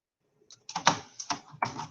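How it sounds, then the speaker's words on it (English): Keys clack on a computer keyboard in a short quiet burst of a few quick taps, close and otherwise silent. "I'm typing it in the chat"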